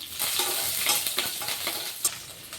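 Curry leaves and garlic sizzle and crackle in hot frying oil, a steady bright hiss with stirring scrapes and a sharp pop near the end, close and alone.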